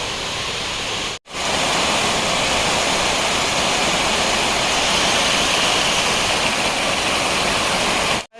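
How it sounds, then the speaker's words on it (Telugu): A waterfall at Maredumilli roars in a constant, loud, broadband rush, heard close and alone apart from two brief dropouts. "వెనకాలే ఉంది కదా వాటర్ ఫాల్, అదే వాటర్ ఫాల్."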